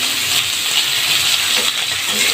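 Green banana and potato pieces drop into hot oil tempered with dried red chilli and five-spice, giving a loud, steady, close sizzle and hiss without pause.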